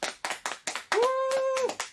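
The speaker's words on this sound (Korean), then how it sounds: "사장님 박수 한번" Hands clapping in a fishing tackle shop, about six quick sharp claps close by, with a sustained whistle-like tone sounding partway through.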